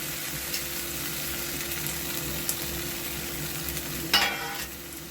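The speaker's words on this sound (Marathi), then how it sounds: "म्हणजे आता चांगलं तेलामध्ये असं परतून घ्यायचं." Ground masala frying in oil for chicken gravy, a continuous close sizzle with scraping stirs and a sharper crackling burst near the end, no voices.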